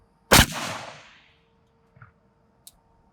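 A single sharp, loud gunshot rings out at a shooting range during a test of a beehive barrier, its report decaying over about a second, then a couple of faint small clicks follow in an otherwise quiet space.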